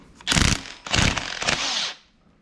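Pneumatic impact wrench loosening a bolt on a Nissan 300ZX during timing work, with three loud close bursts of rapid hammering over roughly two seconds, the last one held steady before cutting off.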